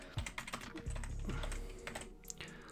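A name being typed on a computer keyboard: quiet, irregular clusters of key clicks and taps, close by and faint, with no voices.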